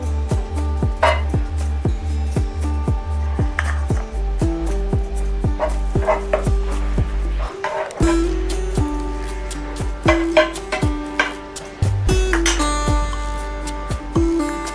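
Pav bread is toasted with butter in a pan alongside pav bhaji, with a soft sizzle under repeated scraping and tapping of a utensil and occasional clinks at an uneven rhythm.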